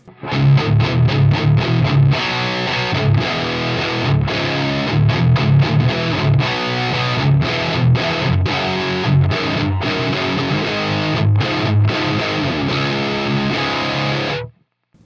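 Heavily distorted electric guitar through a TONEX amp modeler, playing chunky riffs, loud and continuous, with short gaps between chords and a clean stop at the end.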